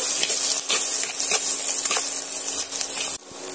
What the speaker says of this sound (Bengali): সমস্ত শুকনো মশলাগুলো আমি দিয়ে এইভাবে সুন্দর করে কষিয়ে নিচ্ছি।